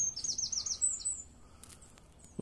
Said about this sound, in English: Lots of curious robins